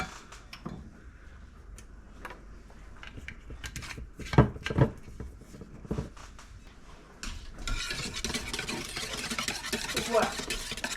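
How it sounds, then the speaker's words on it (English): Crepe batter is stirred in a bowl in a continuous wet swishing and scraping, with a few knocks against the bowl midway. A rougher, louder rasping stirs through the final seconds. "while I'm mixing this batter"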